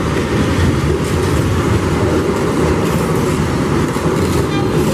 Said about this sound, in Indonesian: Udah masuk nih kereta api Serayu 251 relasi Purwokerto